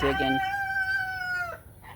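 A single rooster crows once on a farm, a clear, drawn-out call lasting over a second that falls off at the end. It sits close and moderately loud, with a little faint background noise.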